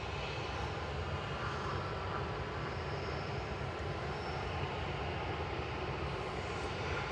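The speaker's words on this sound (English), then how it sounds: "This is Ryanair about to take off to Cork" A Ryanair airliner at Manchester Airport taking off for Cork, a constant wide engine roar with deep rumble, even and unbroken for several seconds, no talking.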